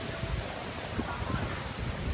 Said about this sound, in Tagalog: Kusog hangin dire.